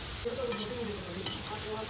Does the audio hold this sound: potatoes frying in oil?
yes